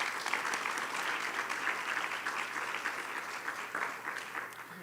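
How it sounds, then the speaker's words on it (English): Audience clapping at a town candidates forum for Receiver of Taxes, fairly quiet and distant in a hall, an even sustained patter with a faint hum beneath. "please offer applause to both candidates for their willingness to answer your questions tonight together on the same stage"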